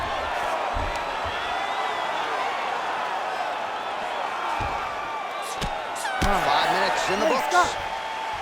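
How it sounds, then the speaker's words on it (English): Arena crowd noise in the UFC 5 fighting video game, a steady roar of cheering and applause that rises toward the end, with a commentator talking over it. "an appreciative crowd responding in kind"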